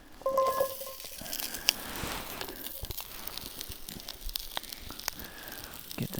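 Olive oil sizzles in a cast iron pan set over a campfire's flames at a remote desert campsite, giving a soft, crackly hiss close by with scattered pops and faint crinkling.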